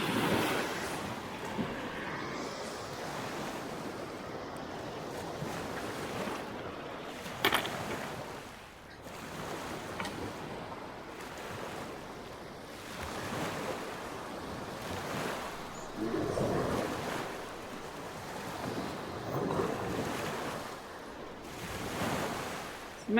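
Lake Michigan waves wash onto a rocky beach in repeated surges, each breaking and hissing back over the stones, a broad steady roar with no one talking.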